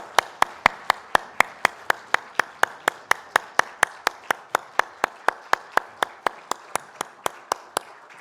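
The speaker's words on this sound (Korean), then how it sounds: "하나님께 영광의 박수 올려드리겠습니다" Rhythmic unison clapping from a congregation at a Sunday worship service, about thirty sharp, evenly spaced claps in a steady beat, close and clear with no talking.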